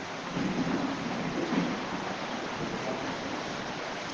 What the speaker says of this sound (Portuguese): Eu sei que está chovendo lá fora